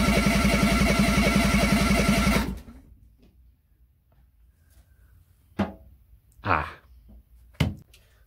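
A Fiat Cinquecento Turbo engine cranks over on its starter during a test, a loud, rapid rhythmic churning that cuts off abruptly, followed by quiet with a few clunks and bumps as someone speaks.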